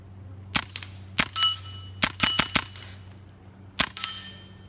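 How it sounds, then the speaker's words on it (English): A Keltec PLR-22 pistol shooting .22 subsonic rounds through a SilencerCo Hybrid suppressor; about nine sharp, muted cracks with metallic action clatter, spaced irregularly over a few seconds, close by and with no talking. "we're gonna burn some more 22 subsonic through the hybrid suppressor on the PLR22."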